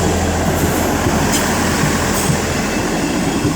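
A Class 158 diesel train rumbles past close by at Liverpool South Parkway station with a steady, loud roar of engine and wheels, continuous throughout with no talking.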